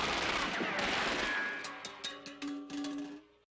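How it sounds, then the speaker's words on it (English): Machine gun fire from a film soundtrack: a dense burst of gunfire with sharp reports and a ringing tone, then scattered separate shots that trail off toward the end. "Oh, they've got machine guns now."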